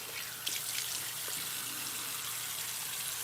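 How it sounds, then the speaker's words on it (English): Tap water runs steadily into a bathroom sink while a face is rinsed during a morning skincare routine, a continuous close hiss with a few small splashes and drips, no talking. "now I'm gonna rinse it off"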